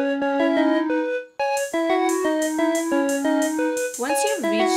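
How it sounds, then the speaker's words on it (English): Drum and flute blocks from Stardew Valley play a quick melodic sequence of bright flute-like notes over steady percussive taps, alone and clear. "she will teach you how to make drum and flute blocks"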